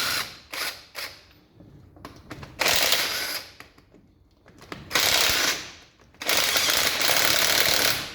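Ratchet and socket work on a 1962 Land Rover Series 2a, 18mm socket, heard as several bursts of close, rasping clicks separated by brief pauses.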